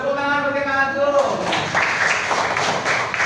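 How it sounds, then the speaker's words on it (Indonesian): Children in a classroom give a short burst of light clapping for a classmate, following a brief tonal hum, all fairly close and informal. "Tepuk tangan untuk Kak Agung."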